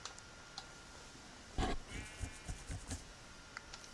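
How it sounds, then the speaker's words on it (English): A Minecraft sheep bleats once, fairly close and clear, over a quiet background with a few faint ticks and clicks. "Sheep."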